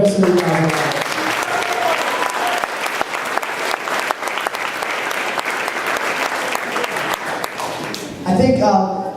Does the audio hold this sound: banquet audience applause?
yes